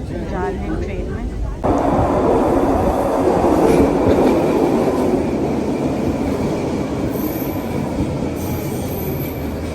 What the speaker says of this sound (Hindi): अब हमारी ट्रेन आ चुकी है और हम जा रहे हैं।